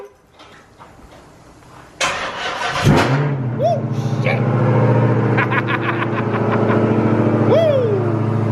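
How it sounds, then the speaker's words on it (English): A Dodge Hellcat Challenger or Charger cold-starts with a loud burst, then its engine settles into a heavy idle and swells through repeated revs, while a man exclaims over the noise. "I'm going to go ahead and get y'all a cold start of this bad boy"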